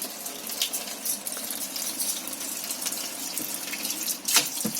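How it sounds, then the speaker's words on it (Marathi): Tap water runs steadily into a sink while goat intestines are washed by hand, a continuous close splashing gush with occasional louder splatters and drips. "पाणी चालू ठेवायचं, नळ चालू ठेवायचं"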